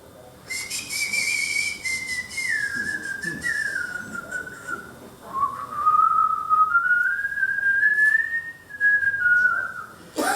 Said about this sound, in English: when he plays, sometimes he whistles.